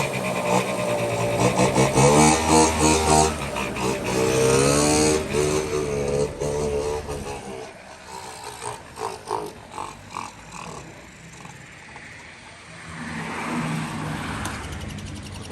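A restored 49cc scooter engine runs with a buzzing, uneven idle, louder and rougher at first, then settling into faint sputtering pops before picking up again.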